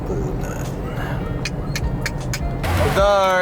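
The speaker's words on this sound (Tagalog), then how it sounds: "The usual traffic in Katipunan." Road traffic in Katipunan heard from nearby, a steady rumbling wash of passing cars with occasional louder swells and a vehicle drawing close at the end, with voices in the background.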